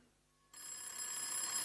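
A telephone starts ringing in a radio drama, a steady bright electronic trill that begins abruptly after a moment of quiet and continues alone at moderate loudness.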